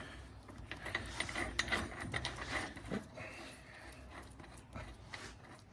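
A ratchet clicks steadily and close by while tightening a large nut on the rear suspension of a 1964 Volkswagen Bus, a busy mechanical rattle running throughout.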